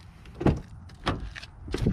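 Door locks on a 2020 Toyota RAV4 XSE Hybrid engaging via the proximity key touch sensor, heard as a few short mechanical clunks in quick succession, close by and fairly crisp.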